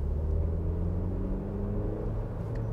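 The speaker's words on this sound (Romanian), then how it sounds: "Ăsta este zgomotul de fond, ca să zic așa, produs de motor." Steady low engine hum and road rumble inside a Range Rover Velar with about 9,900 km on it while driving in traffic, a continuous muffled drone with no talk.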